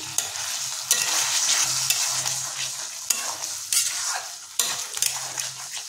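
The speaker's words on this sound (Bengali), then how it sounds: "এটাকে আমরা খুন্তি দিয়ে কিছুক্ষণ নাড়িয়ে নেব।" A metal spatula stirring pointed gourd and prawn curry in a wok with a little water, steady frying sizzle broken by repeated scraping strokes against the pan.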